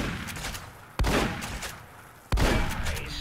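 Artillery fire in the video game Fallout: New Vegas, heard as two heavy, loud booming blasts a little over a second apart, each one rolling out into a long rumbling decay.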